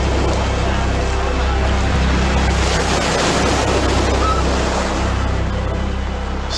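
Atlantic Ocean surf breaks along the coast of Ireland in a steady, loud wash of waves, with wind rushing across the microphone throughout.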